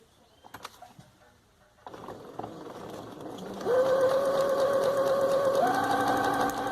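A sewing machine runs a long gathering stitch without backstitching on a festa junina apron, starting after a few faint handling taps, then humming in a steady, close, whirring drone for several seconds.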